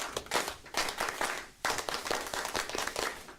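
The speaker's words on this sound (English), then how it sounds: "Hey, all you Beaver fans, come on and clap your hands" Beaver fans clap their hands in time to a chant, faint rhythmic bursts of many hands repeating at an even beat.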